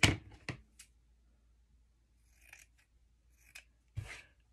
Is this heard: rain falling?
no